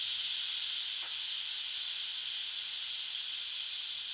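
A pressure cooker vents steam on the stove while green mutton curry cooks, giving a steady, even hiss from start to finish with no voices.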